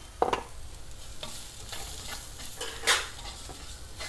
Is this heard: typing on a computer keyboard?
no